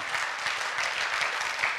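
An audience at a political talk in Baden-Württemberg applauds in a brief, steady burst of moderately loud clapping.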